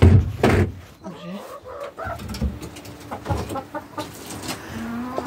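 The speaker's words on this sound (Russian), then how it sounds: "Курочки идут нестись." Ameraucana and other laying hens cluck and murmur softly inside a henhouse as they head to the nest boxes to lay, with low, throaty calls coming close and intermittently.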